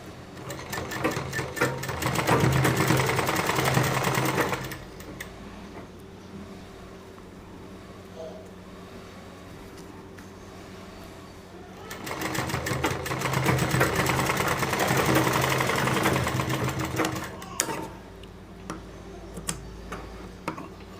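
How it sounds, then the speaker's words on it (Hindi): Sewing machine stitching the corners of a kurti in two bursts of rapid, even needle clatter, close and steady, separated by a quieter stretch of low hum and light ticking. "इसी तरीके से जो सभी कॉर्नर है उस पर हमें सिलाई लगा देनी है।"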